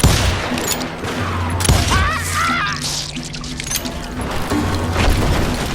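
Gunfire in the video game Call of Juarez, a loud close fusillade of rapid shots amid game sound effects and background clatter.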